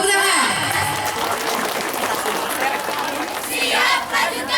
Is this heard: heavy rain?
no